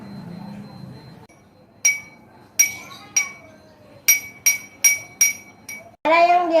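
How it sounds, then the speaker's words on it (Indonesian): A drinking glass is struck outdoors for a classroom sound experiment: about seven sharp, bright clinks with brief ringing tails, spaced irregularly, then a short noisy burst at the end. "saya akan memukul gelas di luar ruangan"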